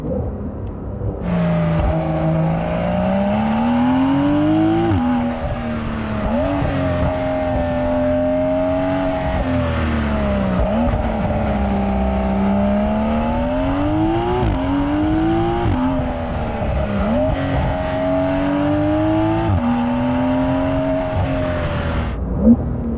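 A 2020 Porsche 911 Carrera 4S engine pulls hard through several quick paddle-shifted gear changes, its pitch climbing and dropping repeatedly, loud and steady from inside the car with no talking.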